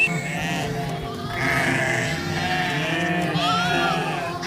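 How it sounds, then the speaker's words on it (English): Sheep bleat repeatedly in the evening as a flock is herded home, their wavering cries overlapping in a loud, close chorus with a few drawn-out calls. "we need to herd the sheep to our home"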